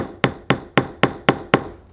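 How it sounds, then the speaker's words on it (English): A small nail driven with the hammer face of a Husky multi-purpose painter's tool, six sharp even taps about a quarter second apart, close and clear with no talking. "You could actually use it to hammer a small nail."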